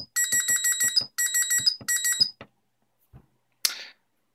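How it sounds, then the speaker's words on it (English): An Arduino Uno burglar alarm built as a home security simulator sounds three quick runs of shrill, evenly pulsed electronic beeps, then falls quiet except for a faint click and a short final chirp. "open the door, and I deactivate my alarm"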